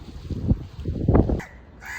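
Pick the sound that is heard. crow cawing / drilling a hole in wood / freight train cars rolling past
crow cawing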